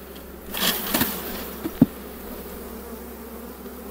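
Honey bees hum around an open beehive frame, a steady close buzz with a few louder passes near the microphone and faint handling knocks.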